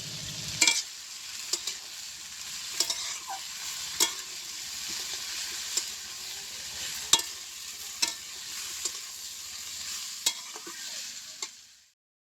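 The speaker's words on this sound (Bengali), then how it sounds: "উচ্ছে আলু ভাজাটা আগে করে নেব" Sliced bitter gourd and potatoes fry in hot oil with a soft continuous sizzle, while a spatula scrapes and taps the pan at a roughly regular pace, about once every second or so, alone without talk.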